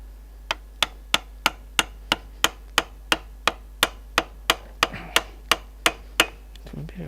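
Hammer blows on a Nissan Terrano shock absorber: about sixteen sharp metallic strikes in an even, steady rhythm, close and distinct, tapering into softer knocks at the end.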